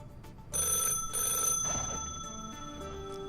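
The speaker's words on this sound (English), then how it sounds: "Ooh, is that a phone ringing?" A landline telephone rings in The Sims video game, with two bright electronic ring bursts followed by a fading tone, alone without talk.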